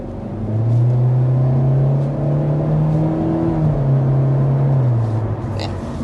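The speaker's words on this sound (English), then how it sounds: "It's fine acceleration." A 2025 Kia K4's 147-horsepower 2-liter 4-cylinder engine accelerates steadily, heard from inside the cabin, a low droning hum rising slightly in pitch over a few seconds with a soft whir.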